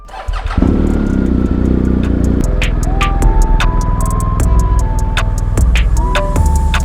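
A Kawasaki Z1000 motorcycle engine starts up and runs loud and close for several seconds, its steady rumble overlaid with sharp ticking and clicking sounds.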